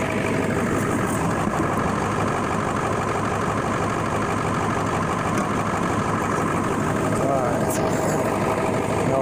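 A 2000 Ford F-350 with a 7.3 diesel engine idles in a steady, rough low clatter, close up and unbroken, with someone talking over it.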